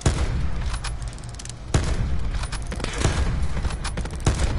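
Gunfire in a multiplayer Call of Duty Blackout battle royale match: repeated sharp shots and bursts across several seconds, loud and close, with rumbling booms between them.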